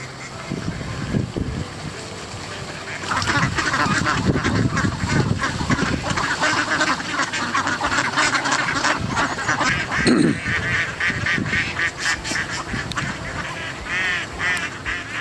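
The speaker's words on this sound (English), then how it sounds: "I am happy for a duck reception line." Ducks and geese at a Scottish castle quack and honk in a busy, overlapping chorus that carries on steadily, close by and fairly loud, with no talk over it.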